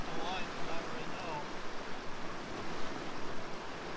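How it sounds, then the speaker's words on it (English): A fast-flowing stream at a gold-panning spot, a dense continuous rush of water, loud and close, with brief faint whistling bird calls near the start. "Water's moving way too fast."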